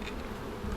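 Honey bees buzz densely around an opened, full hive box in a North Carolina apiary in late June, a steady close hum with no talking.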